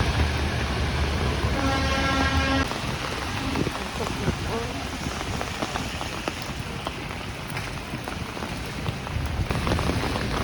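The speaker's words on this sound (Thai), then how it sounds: "ฝนตกแรงมาก" Heavy rain pours steadily and loudly in a dense, continuous hiss on surfaces around a school station in Washington DC, with a brief tonal whine early on.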